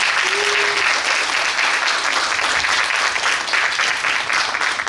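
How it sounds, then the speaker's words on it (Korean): An audience at a citizens' academy lecture bursts into sustained applause after a talk by the National Assembly deputy speaker, the dense clapping steady and loud throughout with a brief voice near the start. "열정적으로 강의해주신 우리 부장님께 한 번 더 큰 박수 부탁드립니다"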